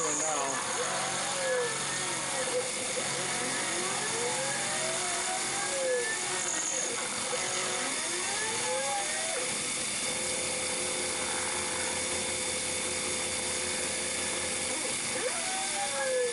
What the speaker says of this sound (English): We're taking really light cuts in the stainless steel, just 5 thousandths deep.